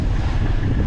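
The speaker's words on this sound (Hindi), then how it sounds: "और बहुत ही ठंडी हवा चल रही है, बोटिंग भी हो रही है।" Cold wind blows across Naini Lake in Nainital, where boating is under way, as a steady, loud, rough rush of noise buffeting the microphone for under a second.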